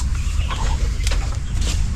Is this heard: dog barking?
no